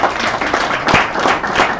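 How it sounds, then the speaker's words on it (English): An audience at a mining innovation event applauds a team, giving a brief, lively burst of many hands clapping with a few sharper claps standing out near the middle. "A round of applause for that."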